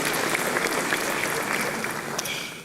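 An audience applauds at a law school honorific lecture in a hall, dense steady clapping throughout that tapers slightly at the end.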